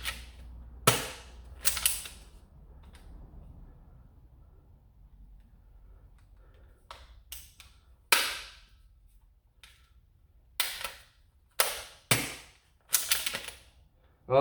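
Toy Glock pistol from an online ad firing and cycling: sharp plastic snaps and clacks, a few near together then scattered single clicks, with quiet gaps between.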